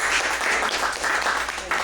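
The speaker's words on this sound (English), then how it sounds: "How about a round of applause for her?" Audience applause at a scratchboard art workshop in San Antonio, Texas, a short burst of steady clapping from a room full of people, with faint voices mixed in.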